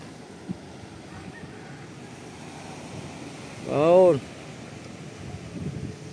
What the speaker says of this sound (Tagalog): Mumuti ang alon. Malakas nga yung sa kabila.